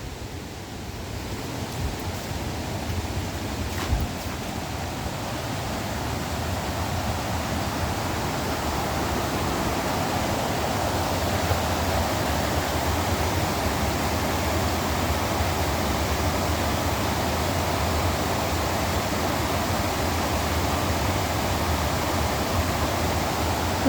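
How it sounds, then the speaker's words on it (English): Fast-moving river water rushes steadily in a broad, constant roar that swells slightly at first and then holds, with no voices. "The river sounds quite fast today."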